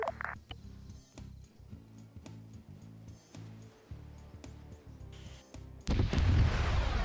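An enemy position in an airborne military video game is destroyed: steady pulsing rumble of distant artillery and booms, then a loud, broad explosive roar that swells and holds near the end.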